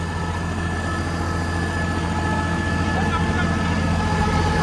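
Close and loud, a New Holland 5620 CRDI tractor drags a rotavator through hard, heavy clay soil, its engine a steady low drone under load with a slight rise in level toward the end.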